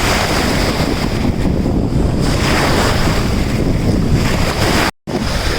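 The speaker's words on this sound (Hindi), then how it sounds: "लहरें अब तेज़ी से बढ़ रही हैं" Loud, constant surf crashing on a beach at a resort in Bujumbura, Burundi, with heavy wind rumbling across the microphone and a brief dropout near the end.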